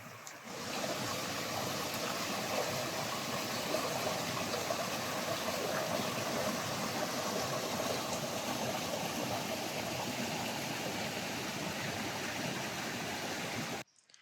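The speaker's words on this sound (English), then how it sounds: "Beautiful little brook flowing into the pond." A small brook flows into Little Long Pond near Tunk Mountain in Maine, giving a steady close rushing and babbling of water over rocks. It runs unbroken for the whole stretch and stops abruptly at the end.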